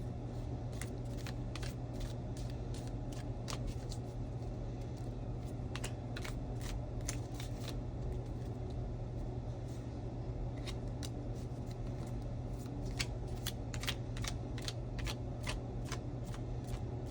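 Tarot cards shuffled by hand in a series of quick riffling bursts and soft flicks, close and fairly quiet over a steady low hum, with no talk.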